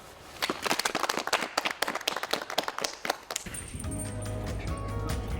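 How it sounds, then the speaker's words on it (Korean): A group of Marine Corps troops on Yeonpyeong Island claps together in a burst of quick, uneven hand claps that stops after about three seconds, leaving a steady droning background. "박수 치면서 마무리하겠습니다."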